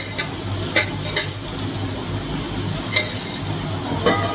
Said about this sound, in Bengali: আলু ভাজাটা হয়নি, আলু ভাজাটা করছি।